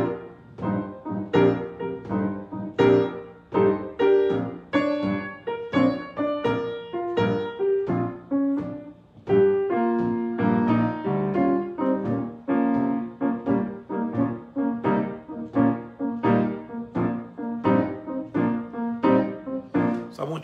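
Instrumental blues shuffle in a lilting triplet swing that blends four and six feels, played steadily throughout by an ensemble with dense harmonic layers and no voices.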